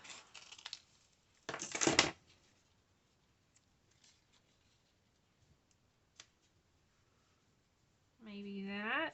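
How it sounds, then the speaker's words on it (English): Scissors cut a sheet of fussy-cut honeycomb paper in half, heard as a short burst of crisp snipping close by, followed by faint handling sounds and a brief tone at the end. "Let's cut this in half."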